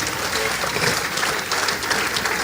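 Church congregation at a testimony service applauding and cheering for Jesus, a dense, steady roar of clapping from many people that fills the room without a break.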